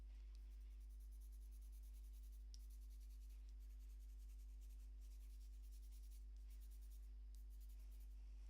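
The side of a pen shading across textured paper on an old book cover, a continuous soft scratchy rubbing in short strokes, close and quiet over a steady low electrical hum.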